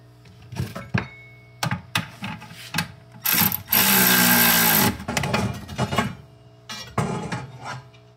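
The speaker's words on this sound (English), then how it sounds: "I haven't tightened these bolts yet, so maybe I'll give them a quick tighten." Bolts being tightened on a Harbor Freight Hercules portable band saw benchtop stand, heard as scattered close ratcheting clicks and metallic taps, with one sustained loud whirring burst of a power driver in the middle.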